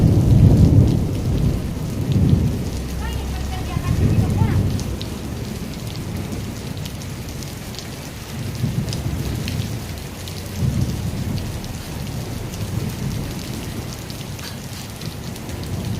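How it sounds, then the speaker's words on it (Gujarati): Unseasonal heavy rain in midsummer with lightning and strong wind, a steady loud downpour hiss broken by several deep rolling thunder rumbles across the whole stretch, with no voices. "કમોસમી વરસાદ પડી રહ્યો છે, વીજળી પણ થઈ રહી છે અને ફૂલ જોરદાર પવન સાથે વરસાદ પડી રહ્યો છે"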